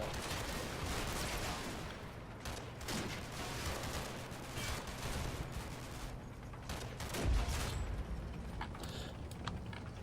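Dense, sustained small-arms gunfire and fusillades from the Combat Mission: Battle for Normandy war game, flanking fire from woods amid hedgerow fighting, with overlapping bursts and a louder boom near the end, no speech.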